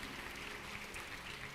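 A church congregation applauds during a Portuguese-language worship service, a steady, faint, distant wash of many hands clapping together, with no voices over it.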